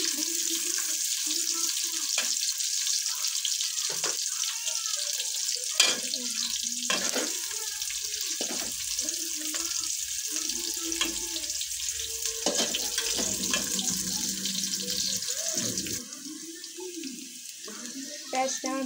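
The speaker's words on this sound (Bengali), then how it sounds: "পেঁয়াজ দিয়ে হালকা একটু ভেজে নেব।" Chopped onions fry in hot oil with bay leaves and cardamom for khichuri, a soft steady sizzle broken by repeated scraping stirs and clinks of a utensil in the pan, close and moderately quiet, with a brief splash of water near the end.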